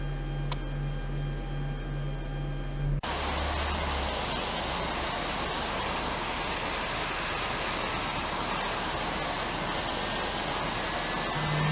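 Boeing 737-800 jet engine in the X-Plane 11 flight simulator spooling up: a steady, loud broadband roar with a rising whine that starts abruptly after a few seconds and holds continuously, no talking.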